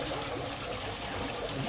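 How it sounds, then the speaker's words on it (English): A self-priming water pump on a secondary tank install spits air and water in a steady, close hissing gush of trickling, splashing flow. "There's air coming out, that's good."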